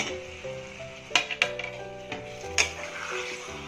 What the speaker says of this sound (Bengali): লিভারটা বা মেটেটা আর আলুটা একসাথেই দিয়ে দেবো